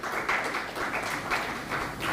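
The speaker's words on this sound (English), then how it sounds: "Please give a huge round of applause." Applause from an audience at a startup event, a steady wash of many hands clapping, fairly close and uninterrupted through the clip.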